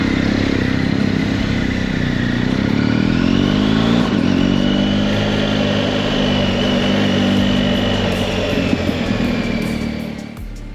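A motorcycle rides along steadily, its engine droning loud and close for about ten seconds with a slight rise in pitch partway, then easing at the end, with no voices.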